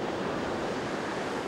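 Ocean waves break on a surf beach in California, a loud, continuous broadband roar of surf with wind, heard alone without voices.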